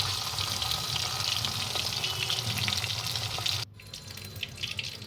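Pabda fish frying in oil, a loud continuous crackling sizzle close up that drops abruptly to a quieter bubbling hiss near the end, with no talking.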